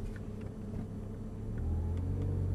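An Audi R8 accelerates gently on the Abbeville race circuit, a low steady engine rumble from inside the car that swells slightly louder in the second half.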